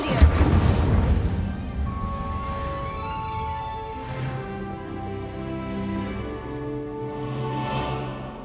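A fiery Incendio spell cast in the Hogwarts Legacy video game bursts out loudly at the start, then fades into sustained ringing magical tones and game music.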